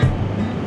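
Seaside surf washes along the Bohol coast in a brief, loud, continuous roar with no voices over it.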